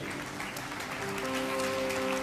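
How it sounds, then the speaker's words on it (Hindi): Church audience applauding, a brief burst of scattered hand clapping over a faint sustained musical tone. "Yeah, you are clapping"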